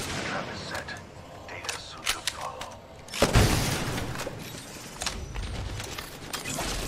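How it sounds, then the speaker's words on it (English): Teammates fire weapons in the battle-royale shooter Apex Legends, a string of scattered gunshots and sharp reports with one heavier burst near the middle, some distant and some closer, with a voice talking over parts of it. "Thankfully, my teammates are shooting at him right here."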